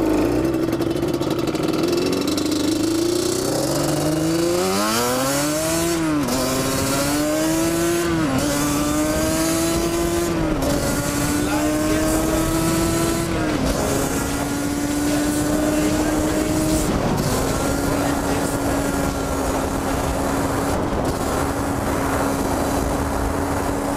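A Yamaha Banshee 350cc ATV engine at full throttle in sixth gear on a top speed run, a loud, sustained two-stroke wail that climbs in pitch through shifts and then holds steady, with wind noise throughout.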